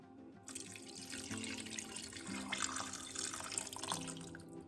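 Water pours steadily into a cooking pot of pinto beans, a continuous splashing gush that starts abruptly and runs for several seconds at close range, with no talking.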